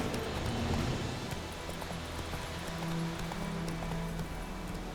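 Horse hooves gallop in a steady, rapid clip-clop over a dense ambient background in The Witcher 3: Wild Hunt on Switch, moderately loud and continuous throughout.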